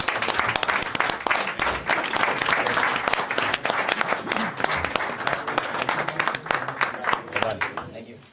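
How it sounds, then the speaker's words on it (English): Sustained audience applause fills a council meeting chamber, a dense, loud wash of many hands clapping steadily for the whole stretch before tapering off at the end. "Let's give them another round of applause."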